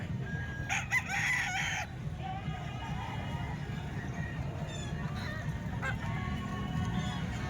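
A rooster crows once nearby in a chicken selling area, with more distant poultry calls and a busy background murmur of ambient noise.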